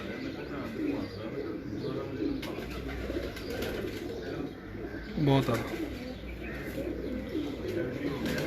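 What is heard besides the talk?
pigeon cooing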